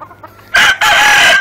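A fighting rooster, an Albany, crows loudly and close by, a long strained call after a brief opening burst, with faint clucking beforehand.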